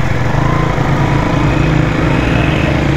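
Motorcycle engine fitted with PPF, running at a steady idle, a loud close continuous drone with a fast even putter and no speech.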